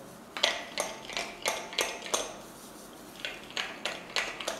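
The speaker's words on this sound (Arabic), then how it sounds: "راح نبدا نخلط في البيض وحده في الأول." Eggs are beaten by hand in a bowl for madeleine batter, producing a steady series of light clinking taps of utensil against the bowl, close and fairly quiet, with a short pause midway.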